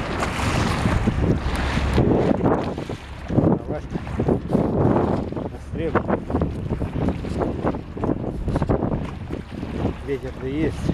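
Strong wind on the Neva River buffets and roars across the microphone in gusts, mixed with splashing water and muffled voices.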